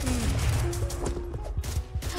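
Gunfire in a shooter video game with a SCAR rifle, a dense run of overlapping shots and impacts with game effects layered over a steady low rumble, loud and close throughout.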